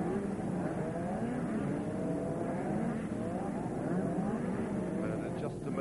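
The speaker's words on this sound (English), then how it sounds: "the parade lap, or the pace lap, when they go around slowly, gently, paced by the pole man" Formula One race cars drone steadily on the slow pace lap behind the pole sitter in the spare car, a continuous blended engine roar with rising and falling pitches, heard under a commentator's talk.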